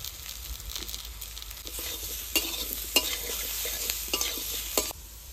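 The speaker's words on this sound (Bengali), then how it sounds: "ভালো করে ভেজে নিয়েছি পেঁপে আর আলু, এবার একটু হলুদ দিয়ে নাড়াচাড়া দিয়ে জল দিয়ে দেবো।" Papaya and potatoes stir-fried with turmeric in a pan, giving a steady close sizzle with repeated scraping and stirring clacks of a spatula against the pan.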